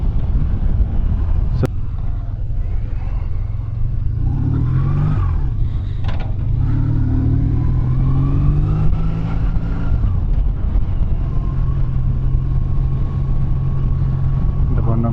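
A BMW R1150 GS motorcycle engine runs steadily while riding, a continuous low drone with some rising and falling throttle, close and loud, with a person talking over it.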